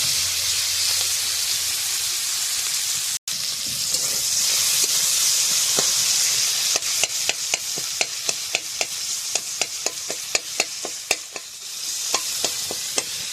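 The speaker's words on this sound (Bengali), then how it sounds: "চিংড়ি মাছটাকে আগে ভালো করে ভেজে নেব।" Prawns fry in hot oil in a wok over a wood-fired stove, a steady close sizzle and hiss with sharp clicks and taps from stirring, quickening in the second half.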